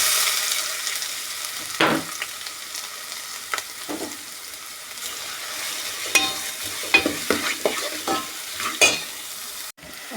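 Finely chopped onions fry in a pan with a steady sizzle, broken by the scrape and clatter of stirring at irregular intervals, close and fairly loud with no talking.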